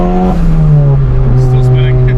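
A 350HP EQT-tuned MK7 car revving hard with its wheels spinning, loud and close, the engine note rising and wavering with squealing tire noise on top.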